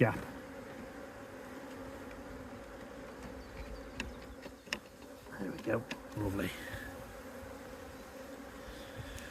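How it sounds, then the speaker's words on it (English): Close, steady buzzing of many honeybees in a hive box fills the clip, with a few clicks and handling bumps, and a voice briefly speaks over it. "we've still got a lot of bees in the box"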